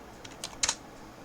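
A few quick keystrokes on a computer keyboard, light plastic clicks in a short burst, close and fairly quiet.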